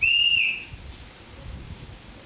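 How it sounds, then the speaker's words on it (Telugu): A single shrill whistle blast, about half a second long, signals the start of a balloon-blowing game at a church vacation Bible school, followed by quiet room murmur. "విజిల్ సౌండ్ వినిపిస్తుంది"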